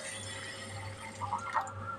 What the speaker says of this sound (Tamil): இப்போ தண்ணி ஊற்றலாம்.